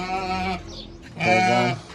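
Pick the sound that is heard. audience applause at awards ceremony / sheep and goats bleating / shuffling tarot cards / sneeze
sheep and goats bleating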